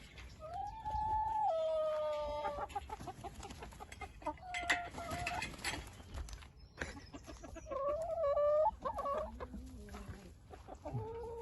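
A chicken on a small farm gives repeated close clucks and rising squawking calls, with other fowl and a dog faintly audible in the background.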